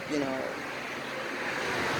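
Ocean surf at an oceanfront apartment in Jamaica, a soft continuous wash of waves under light wind, faint and steady, with a brief murmur of voice at the start.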